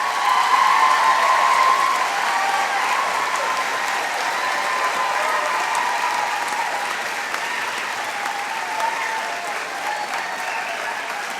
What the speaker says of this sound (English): So a round of applause for the entire group